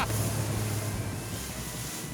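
A 2006 Seafox cuddy cabin boat running at about 24 mph and 4,100 RPM: steady, loud outboard engine drone with rushing wind and water noise, unbroken throughout.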